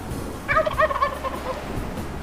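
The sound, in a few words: Gould's wild turkey gobbler gobbling, Mexico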